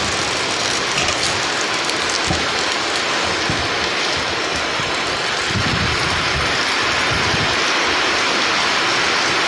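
Light drizzling rain falls steadily outdoors, a constant broadband hiss with soft scattered patters, fairly loud and uninterrupted throughout.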